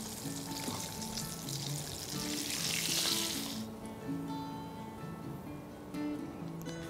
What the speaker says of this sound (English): We have to fry them till they are crisp and golden brown.